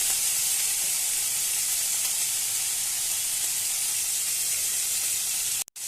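Boiled taro greens hit hot spices in a pan, setting off a loud, steady, close sizzle and hiss that fills the whole stretch before cutting off abruptly at the end.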